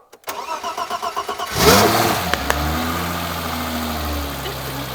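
A BMW E30 engine cranks with a rhythmic starter whir, catches with a sharp rev, then settles into a steady, smooth idle heard close up with no talking.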